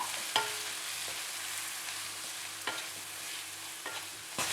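Potatoes coated in ground masala fry in a pan, giving a soft steady sizzle with occasional scrapes and stirs of a spoon, close and fairly quiet with no voices.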